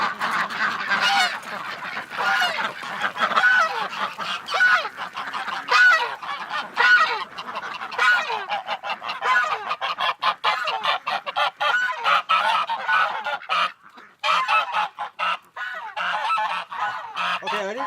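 Ducks at a backyard pen crowding close, loud harsh honking and quacking calls overlapping in rapid bursts, nearly continuous with brief pauses.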